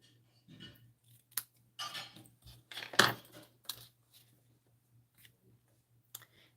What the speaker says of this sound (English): Here's our paper snips.